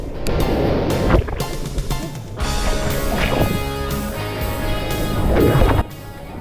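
Ocean waves crash while someone surfs in Bali, a loud, close, roaring wash of water with heavier surges breaking through, and no voices.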